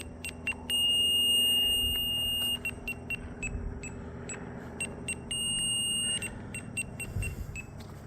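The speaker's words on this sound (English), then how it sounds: "Let me see what we're set at on the beeper. That sounds really loud." An electronic beeper gives two long, piercing beeps several seconds apart, along with a string of short chirps in between, all fairly close over a faint background hum.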